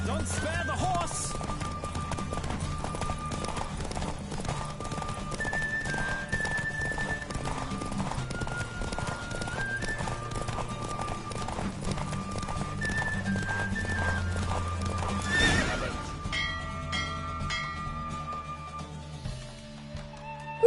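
Rapid rhythmic hoofbeats of a galloping horse during a race in The Witcher 3, a steady driving clip-clop under game music and occasional voices, with a neigh near the end.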